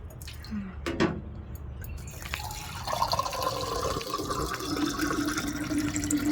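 A few drips, then water starts running from a drinking-water tap at KBR Park and keeps flowing steadily, close by and fairly loud.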